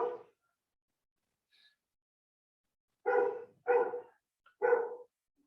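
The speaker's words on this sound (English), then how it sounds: "dogs are at the door" Dogs bark at a door during a yoga class: one loud bark, a long silence with a faint distant yip, then three sharp close barks in quick succession over near silence.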